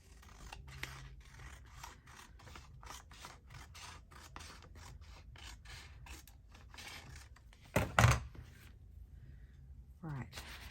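Scissors snip the edge off a sheet of HP printed paper in a rapid, close series of cuts, with rustling and a louder paper handling noise near the end as the sheet is set down.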